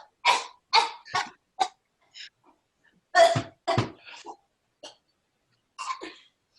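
A series of harsh, short coughs in separate bursts with brief pauses between them, close and fairly loud.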